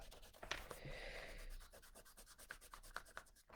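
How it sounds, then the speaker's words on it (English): Eraser rubbing out fine pencil lines on paper during a drawing session, heard as a close, soft run of quick scratchy strokes, continuous at first and then breaking into short repeated rubs. "I'm using a one just to see what it looks like, and then I'll rub it out"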